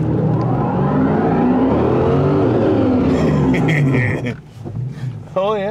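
A rear-wheel-drive Hemi-powered car revs hard and holds a loud, sustained roar on a closed course pavement during a smoky burnout, then the engine drops off near the end as people talk nearby.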